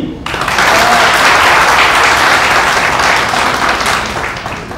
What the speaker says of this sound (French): est-ce qu'on peut vous applaudir?